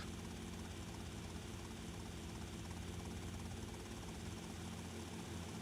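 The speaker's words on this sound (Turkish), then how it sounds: "Bizim evde burada helikopterimiz de var artık." Helicopter rotor and engine roar in the game GTA Vice City, a dense continuous thrumming wash that stays loud and steady throughout with no talking.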